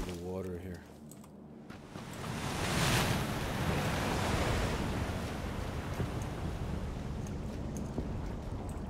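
Water sloshing and splashing as a character wades through water in PUBG, a steady broadband wash rising after a brief voice at the start and continuing loud and close to the end.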